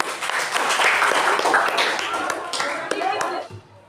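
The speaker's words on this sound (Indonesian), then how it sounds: "terima kasih kasih tepuk tangan" A classroom of children clapping, with a burst of fairly loud applause and tapping hands mixed with children's voices and chatter, fading out near the end.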